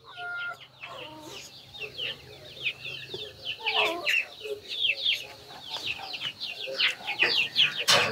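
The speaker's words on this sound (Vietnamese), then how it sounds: "Cái đàn gà nó nghịch quá." A flock of chickens clucks and chirps continuously at a low level, with overlapping short calls rising and falling in a farmyard, and no talking.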